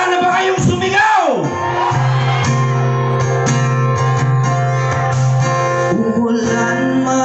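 A concert crowd at a campaign rally in Cebu shouts and cheers in long sustained roars, loud and close, with amplified music and voices ringing over the crowd.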